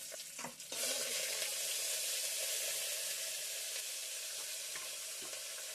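Dried chillies sizzle in hot oil for rasam, a steady crackling hiss after a few soft knocks at the start, fairly quiet and with no talking.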